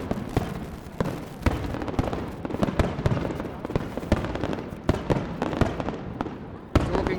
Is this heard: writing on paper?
no